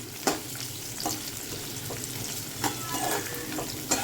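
Tomato, salt and four garlic cloves fry in a pan, a steady soft sizzle broken by a few louder stirring scrapes, close and alone without talk.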